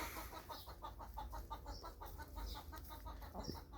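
Chickens clucking steadily in a farmyard while eating grass, a continuous busy murmur of hens with repeated short calls, fairly close and moderately loud.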